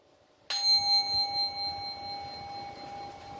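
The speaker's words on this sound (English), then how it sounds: "My grandfather's bell." A grandfather's bell, kept in a room hung with other bells and chimes, is struck once and rings out clear and close, its bright metallic tone slowly fading over the next few seconds.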